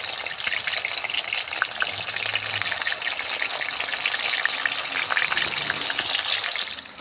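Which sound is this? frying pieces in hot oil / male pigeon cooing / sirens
frying pieces in hot oil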